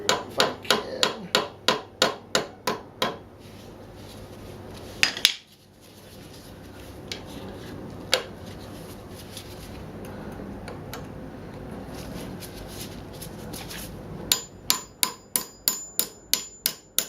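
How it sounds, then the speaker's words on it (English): A run of light, quick metallic hammer taps on a cotter pin at a castle nut on a 1969 Honda CL160 front wheel, then a long quieter pause with a few isolated clinks, and another quick series of taps. "Using some light hammer blows on that to pull the cotter pin up"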